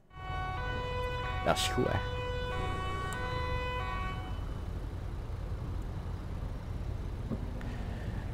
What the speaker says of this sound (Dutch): Hey, sinds wanneer zit er een sirene op die wegenwachtbus?